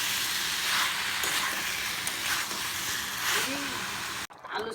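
Potatoes and ridge gourd fry in spiced oil in a pan, a steady broadband sizzle running throughout with a faint background voice, ending abruptly near the close.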